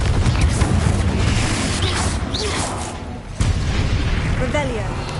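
Booming Confringo blasting-curse explosions in Hogwarts Legacy, loud and rumbling, with a whooshing sweep in the middle and a second blast hitting sharply partway through over continuous low roar.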